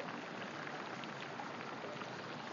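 Hot spring water boils in a soft, even bubbling and fizzing hiss, faint and steady from start to end with no voices.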